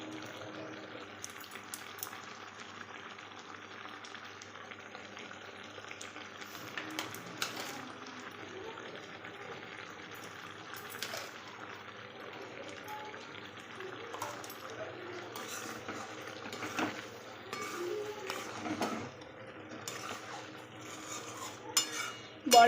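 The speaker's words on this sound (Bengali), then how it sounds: "চিকেনটা আমি কষানোর জন্য কড়াইয়ে দিয়ে দিয়েছি।" Chicken fries in a kadai while being stirred, giving a soft continuous sizzle broken by occasional scrapes and clinks of the spoon against the pan, fairly quiet, with faint talk now and then.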